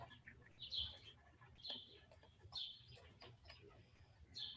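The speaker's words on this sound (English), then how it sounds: "I hear birds chirping." Birds chirp outdoors among big trees beside a city patio garden. Faint, short, high chirps repeat every second or so over a soft, steady background.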